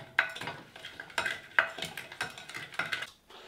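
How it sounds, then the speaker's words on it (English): A spoon stirs chocolate pudding mixture seasoned with nutmeg and cinnamon in a pot, giving several irregular scraping and tapping strokes close by with no talk. "Give this a bit of a stir."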